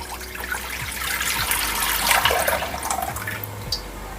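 Half a litre of milk pours into a kadhai set on a gas stove, a close, continuous splashing trickle lasting a few seconds with no talk over it.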